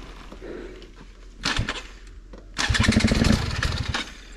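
A Stark Varg dirt bike being started and revved outdoors, with a short burst of motor noise followed by a longer, louder rev that rises, holds for over a second and then cuts off.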